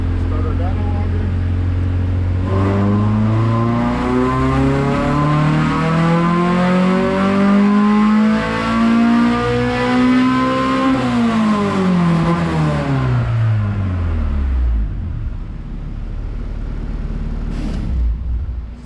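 Honda H22A engine on nitrous screaming through a dyno pull, loud and continuous, rising steadily in pitch through the gears for about twelve seconds before dropping off and settling back down, with a brief blip near the end.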